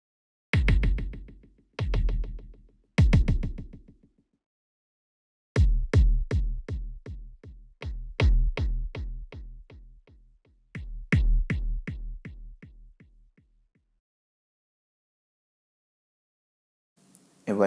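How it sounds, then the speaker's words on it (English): Arturia iSpark drum machine pattern with a phaser on the left channel and a delay on the right, punchy percussive hits in short bursts then a longer repeating groove that decays into silence, with no talking. "So you can take left a phaser and right a delay."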